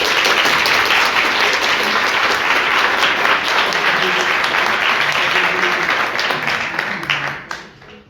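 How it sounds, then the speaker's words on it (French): An audience at a public speaking competition bursts into sustained, dense applause that fills the room for several seconds before tapering off. "S'il vous plaît, applaudir Ezzeldine Amir."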